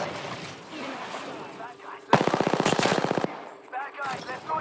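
A rapid automatic weapon fires a single loud burst of about a dozen evenly spaced shots in the Apex Legends video game, preceded and followed by quieter game sounds and speech.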